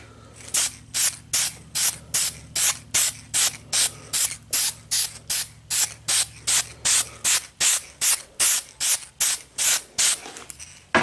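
A sprayer lays down a coat of paint in about two dozen short, evenly spaced hissing bursts, loud and close, with a faint low hum underneath that drops away partway through; no one talks.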